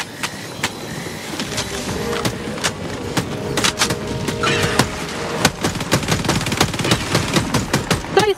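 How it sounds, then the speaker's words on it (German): Rapid gunfire rattles through a video game battle against robots, heard through a Panasonic neck speaker as dense bursts of automatic shots and sharp single cracks, loud and continuous with clanking effects mixed in. "Wir kämpfen gerade gegen Roboter hier auf dieser Mission und da geht gut was ab, wird ordentlich geballert"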